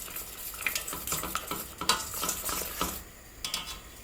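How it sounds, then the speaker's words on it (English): A spoon stirs ground nutmeg into a pancake batter of flour and milk in a bowl, with soft repeated scraping and swishing strokes at close range and no voices. "Stir that in."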